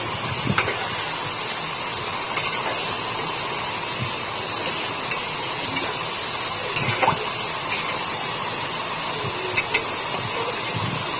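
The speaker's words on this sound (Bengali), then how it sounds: "এখন আমি দুধটা দিয়ে দিব রোস্টের ভিতরে দিয়ে ভালোভাবে নাড়াচাড়া করবো" Milk added to a simmering roast in a pan gives a continuous loud hissing bubble, with faint spoon scrapes and taps now and then as it is stirred.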